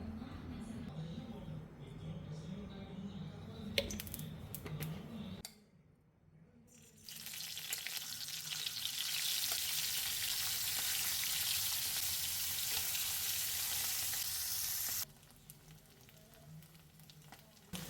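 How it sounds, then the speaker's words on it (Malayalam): Dried pony fish (mullan) frying in a hot pan as Kerala chammanthi is made, giving a loud, steady broadband sizzle for several seconds, with quieter kitchen sounds and brief stirring before and after. "ഈ മുള്ളനൊന്ന് വറക്കാം"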